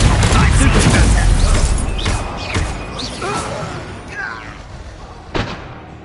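A Bombarda blast spell explodes in Hogwarts Legacy, a loud booming burst followed by crackling debris and a second smaller thud, fading out over several seconds, with no talking.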